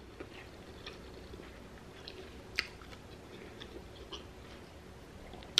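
Quiet close-up chewing of a Burger King Whopper with hot Cheetos, soft wet mouth sounds with a couple of sharper crunchy bites, alone without talk.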